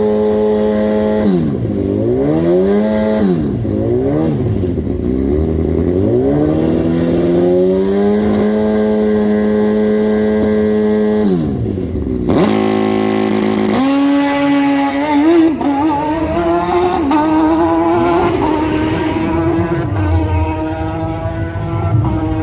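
A drag racing car making a run at the National Finals, its engine revving loudly and climbing in pitch through repeated gear changes, then dropping off and winding down near the end.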